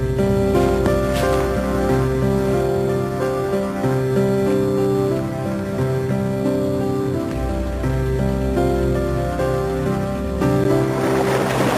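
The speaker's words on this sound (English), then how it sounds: "Get the engine going." A loud, steady boat engine drones with a deep hum and pitched tones, water splashing faintly alongside, continuous throughout without voices.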